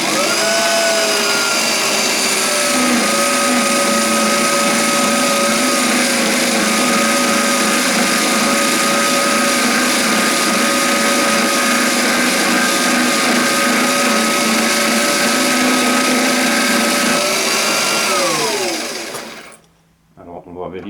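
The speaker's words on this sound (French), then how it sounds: "on va utiliser une petite lime plate, une petite râpe plate plutôt, et on va réaliser l'épaulement sur le haut de notre cylindre" A small hand tool whirs steadily against a balsa nose cone spinning on a lathe, a sustained machine drone with tonal lines that holds for about eighteen seconds, then winds down and stops.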